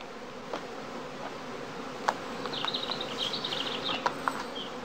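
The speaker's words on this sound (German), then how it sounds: "In jedem Korb schaufelt er aus dem Fangkorb etwa 2 Holzteller voll Nachschwarmbienen hinein." Honeybees from an after-swarm buzz around straw skeps at a heath beekeeping yard, a steady high insect drone with a few sharper knocks and faint higher chirps drifting over it.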